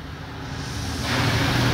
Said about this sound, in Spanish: Qué tan fuerte está ese chorro de agua